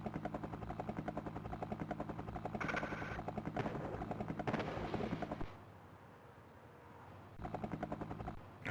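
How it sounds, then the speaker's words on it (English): Helicopter in an Amiga video game, a steady chopping rotor drone with rapid bursts of gunfire-like crackle, loud throughout, dropping away briefly near the end before returning. "I should have clocked on that the helicopters are just as nasty"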